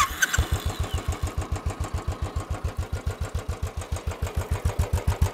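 A Royal Enfield Classic 500 motorcycle is started with the electric button, a brief whirr of the starter, then the engine catches into a steady, loud, rhythmic single-cylinder thump recorded close up.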